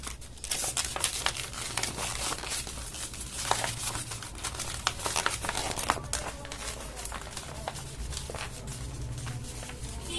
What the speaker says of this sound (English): So just gotta put some more tape in there.